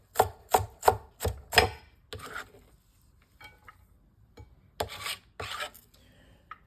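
Purple onions chopped with a knife on a board, a quick run of five sharp strokes followed by scattered slower cuts and scraping, close and with no voice.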